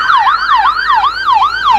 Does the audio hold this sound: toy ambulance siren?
yes